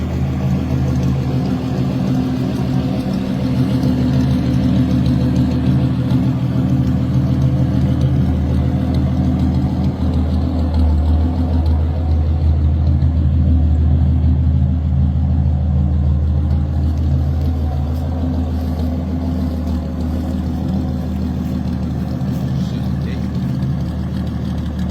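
The engine of a 1963 Ford Falcon Ranchero hot rod runs at a steady, deep, rumbling idle, loud and continuous, with a voice talking over it.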